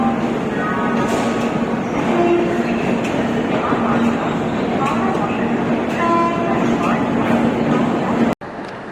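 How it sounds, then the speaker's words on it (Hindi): Howrah Rajdhani Express coach B2 rolling in and settling at a station platform, steady rumble of wagons with a horn and crowd talk over it, ending in an abrupt cut. "वही ये आ गया हमारा कोच B2, अभी रुकी है आके।"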